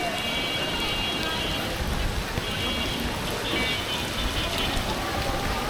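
Heavy rain on a road at Rajshahi University campus: a dense, unbroken hiss of drops on the surface, even and loud from start to end.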